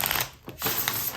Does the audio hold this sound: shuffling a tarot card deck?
yes